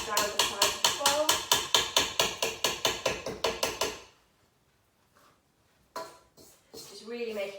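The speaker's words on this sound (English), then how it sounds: "sometimes I think it's best to stop and try and just kind of scrape down the side of the bowl" A utensil works around the side of a mixing bowl of chocolate chip cookie dough, giving a fast, even run of close knocking scrapes for about four seconds before it goes quiet, with softer handling sounds after.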